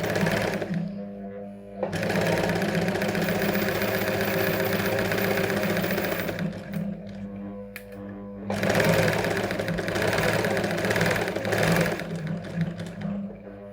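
A domestic sewing machine runs steadily under foot-pedal control during a basic tailoring lesson, a loud continuous mechanical whir with a brief pause partway through before it starts up again.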